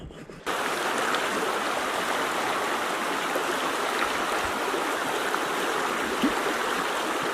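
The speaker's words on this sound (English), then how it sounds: "there's a little creek right up here" A small mountain creek, a tiny tributary in the Bighorn Mountains, rushes in a steady, close, broadband wash after a brief quieter start, continuing unbroken with no voices.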